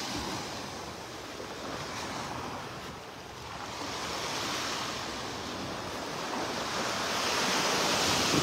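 Ocean waves wash steadily onto a beach in North Naples, Florida, a continuous broad surf roar with gentle swells in loudness and some wind rumble, no voices.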